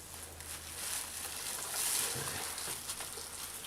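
Stuffed chicken breast frying in a pan, a steady hissing sizzle throughout with faint scrapes from tongs or a fork, nearby and moderately loud with no talk.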